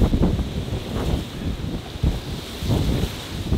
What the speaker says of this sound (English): you can hear the wind fighting through there